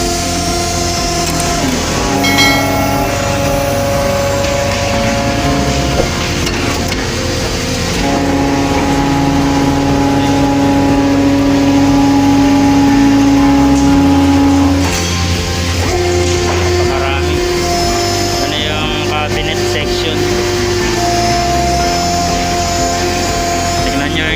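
Inside a noisy machine section, running machinery makes a loud, continuous drone with steady tones and shifting mechanical layers, and a person talks over it throughout.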